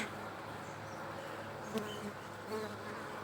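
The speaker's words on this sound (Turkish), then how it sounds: "Arı yavaş yavaş salkıma başlamış" A steady, dense hum of many honeybees buzzing close by at a queenless hive, continuous throughout with a few brief rustling knocks.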